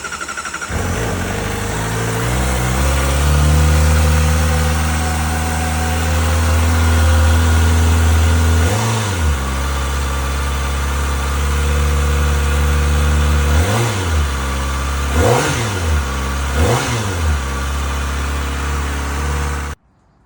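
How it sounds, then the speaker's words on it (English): A 2024 Kawasaki ZX4R with an unbaffled Yoshimura AT2 slip-on exhaust idles from a cold start, a loud, close, steady high-pitched drone broken by several sharp throttle blips near the end before cutting off. "Gonna do a cold start to get that nice cold start exhaust sound here."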